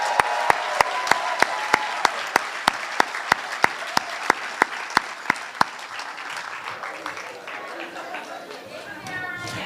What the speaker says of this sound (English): Can we get one more round of applause for the dancers?